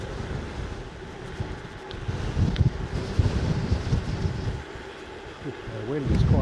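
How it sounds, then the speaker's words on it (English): Strong wind gusting across the exposed coast at Ogmore-by-Sea, a constant rumbling buffet against the microphone with surging gusts, loud and close throughout. "The wind is quite strong, you've got to be a bit careful."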